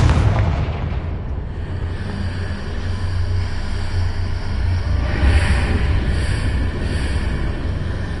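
A Confringo blasting spell in Hogwarts Legacy sets off a loud boom, and a long, rumbling roar follows and holds steady with no voices.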